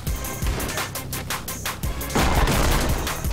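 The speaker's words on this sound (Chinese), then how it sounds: "新年烟火，哇！" New Year fireworks in the video game Anger Foot, rapid crackling bursts and popping blasts that build into a loud dense barrage in the second half, with no speech.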